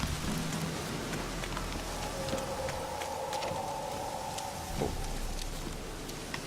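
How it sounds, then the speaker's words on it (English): Steady rain in the Witcher 3 game world, a constant dense hiss of falling drops, with a faint sustained tonal drone running through the middle. "Looks like rain."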